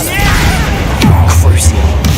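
A Bombarda spell blast in the Hogwarts Legacy video game lands as a short booming impact with a whooshing rush, loud and close, while a voice speaks over the game's action.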